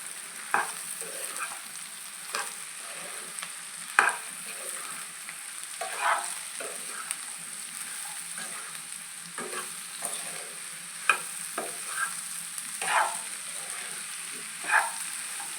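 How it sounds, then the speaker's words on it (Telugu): Green banana and dried prawn curry fries in a pan with a constant close sizzle, broken by repeated scraping strokes of a spatula stirring at an irregular pace throughout. "బాగా ఫ్రై అయిపోయింది."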